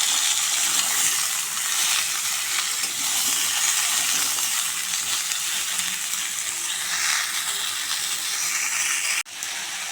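Washed, cut vegetables dropped into hot oil in a pan, a steady loud sizzle and crackle of frying lasting throughout, with a sudden clunk near the end before the frying continues slightly quieter.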